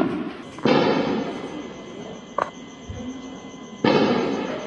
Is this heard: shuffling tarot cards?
no